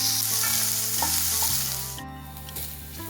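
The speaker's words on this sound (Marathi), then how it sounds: "छान असं आपला कांदा परतायला लागलेला आहे।" Vertically sliced onions sizzle steadily as they sauté in a hot pan for a Kolhapuri misal masala, a loud, continuous frying hiss heard up close with a few stirring scrapes.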